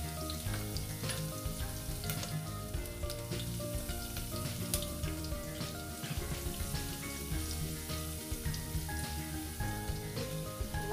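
Dal ingredients fry and sizzle steadily in oil inside a pressure cooker while being stirred, a dense continuous crackle with occasional scrape and clink of the spoon, close and loud with no talk.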